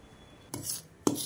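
Rice flour and gram flour stirred together in a bowl for homemade Kurkure, two short scraping bursts of a spoon against the dish, close and fairly quiet with no talking.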